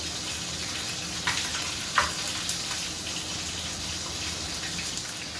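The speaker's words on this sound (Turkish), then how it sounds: "Üç dört dakikadır tavuklar tavada. Yağda hafif kavruluyor." Steady sizzling of chicken browning in hot oil in a pan, with a couple of faint clinks, no voices.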